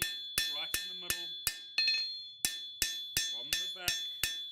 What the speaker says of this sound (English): You'll see where my hammer blows are landing, right in the middle